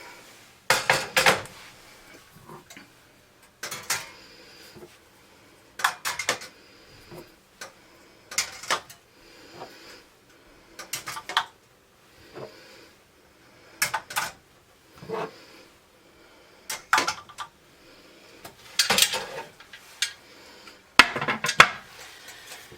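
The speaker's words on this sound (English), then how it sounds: "I'm going to put these in the canner and then I'm going to fill some more" Glass jars of sausage gravy set down one after another into a metal canner, a series of sharp clinks and clunks in irregular bursts separated by quiet pauses, close and fairly loud.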